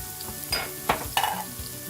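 Diced white onions fry in a pan, a close sizzle broken by a few sharp bursts of spattering as they are stirred.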